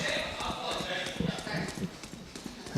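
Footsteps thud in a quick run in the Valorant video game, soft and rhythmic under steady commentator talk during a pro esports match.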